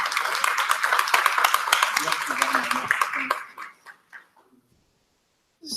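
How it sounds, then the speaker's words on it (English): Audience applause closing a session at a climate conference workshop, brisk clapping from a room of attendees for several seconds that tapers off into near silence. "let's give them an applause before we close this meeting"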